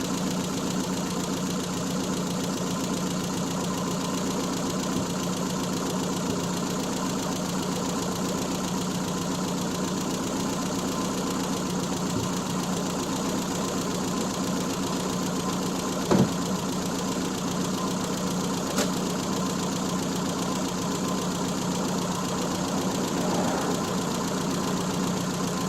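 An old Triumph Spitfire engine, unstarted for twelve years, runs at a steady idle with an even mechanical knock throughout, close and continuous, with a couple of brief clunks near the end.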